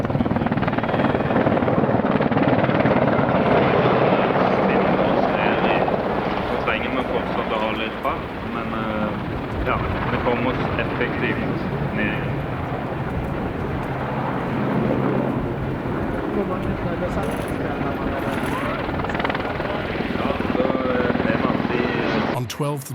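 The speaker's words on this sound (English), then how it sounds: "stay with the Norwegian Air Force with this Augusta Westland AW-101 Merlin" Steady heavy whir and rotor thump of a Norwegian Air Force AgustaWestland AW101 Merlin helicopter at an airshow, loud and continuous, with a voice talking over it.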